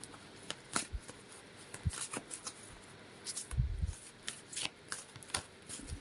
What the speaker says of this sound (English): So I'm just going to give these cards a shuffle.